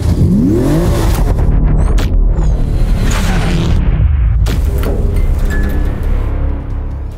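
Two cars, a BMW M135i and a VW Golf 8R, launch and accelerate hard in a drag race, loud close engine roar with rising revs and sharp gear-shift breaks, fading slightly toward the end.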